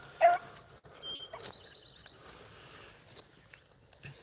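A rabbit hound barks once sharply up front, followed by fainter distant yelps and baying from other hounds over quiet background noise.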